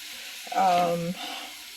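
Onions and pounded spices sautéing in a pan for chicken paprikash, a brief close burst of sizzling over a steady background hiss, with no speech.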